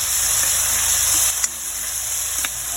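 Tomatoes sizzle steadily with snail soup in a hot pan, a constant bright frying hiss with a couple of faint clinks of a utensil.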